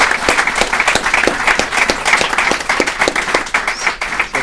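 Church congregation applauding, loud and close with sharp individual claps standing out over a dense, steady patter that carries on evenly for several seconds, no speech on top.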